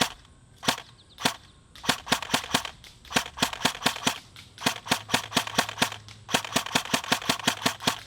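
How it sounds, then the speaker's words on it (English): ASG CZ Bren 805 airsoft rifle on an 11.1 V LiPo firing repeated sharp semi-auto shots at targets about 75–80 feet away, in quick bursts of crisp snapping reports with short pauses, loud and close, no talking. "let us shoot this beautiful gun and see how it performs accuracy wise"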